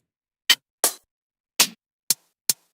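A programmed hi-hat pattern with no velocity variation, made of five crisp, bright, short ticks at uneven spacing, each hit at the same level, clear and close with silence between them and no voices.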